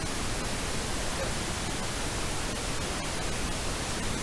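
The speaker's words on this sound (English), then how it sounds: "That is my pink noise track, and I am going to show you what this sounds like right now." Steady pink noise played as a reference track for mixing a song, a continuous broadband hiss that stays even in level throughout with no talk over it.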